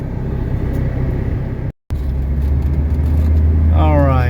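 A 1979 Mercedes 300SD diesel sedan accelerating normally on a test drive, its steady low engine rumble filling the cabin with one brief dropout, and a voice briefly heard near the end.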